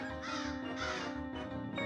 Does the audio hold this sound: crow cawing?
yes